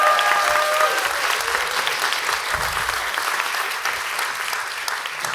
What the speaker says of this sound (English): Can you give them a massive round of applause?